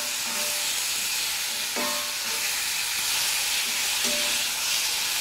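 Chopped radish sautéing in a pan for sambar, a constant broad hiss of oil sizzle with a couple of faint soft stirring knocks, no voices.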